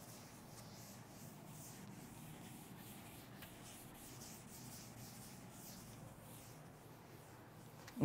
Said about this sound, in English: Now I am going to rub this part and we'll discuss the next one.